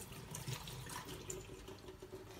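Morel mushrooms being rinsed under running tap water: a steady, fairly quiet rush of faucet flow into a sink, continuous throughout with no talking.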